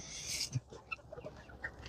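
Soft, intermittent chicken clucks scattered over a steady background hiss, with a brief higher noise at the start.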